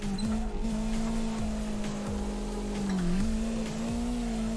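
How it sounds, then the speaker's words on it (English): Stock Nissan 180SX/240SX drifting in CarX Drift Racing, its engine droning steadily at high revs with sharp gear-shift dips in pitch and brief tire squeal, loud and continuous with no talk. "I'm just banging third gear."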